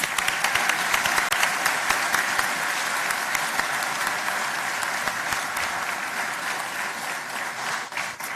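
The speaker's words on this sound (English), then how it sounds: "Let's give all of our award recipients another round of applause." Loud, sustained applause from a seated audience at a sheriff's office awards and promotions ceremony, a dense wash of clapping that holds steady throughout and tapers slightly at the end.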